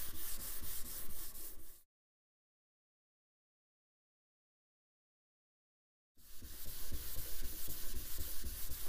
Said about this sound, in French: Il est très important de poncer un peu dans tous les sens, de ne pas faire tout le temps le même mouvement